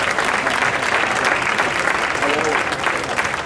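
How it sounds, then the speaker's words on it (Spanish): Audience applause at the final of a trovo poetry contest in La Unión, a dense, steady clapping from a full hall that fills the whole stretch at even loudness. "un aplauso para él"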